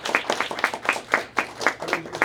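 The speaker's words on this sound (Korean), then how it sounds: "박수로 축하해 주시기 바랍니다" An audience at a church installation service in Namdaemun Church claps, a short burst of irregular hand claps from a small group, fairly close and even in loudness, with no talk over it.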